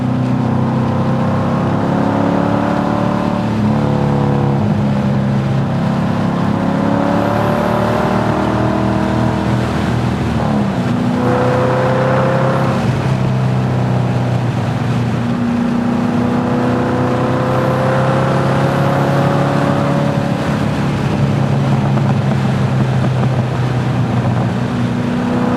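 A Datsun 240Z Z-Beast restomod pulls hard in third gear, its engine note climbing loud and steady with brief dips as the throttle shifts, close and continuous for the whole stretch.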